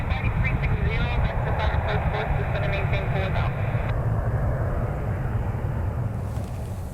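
A United Airlines Boeing 757-300 on a Browns charter at Cleveland, a loud steady roaring jet engine noise with a whining tone that shifts partway through, continuous and near, with a voice talking over it.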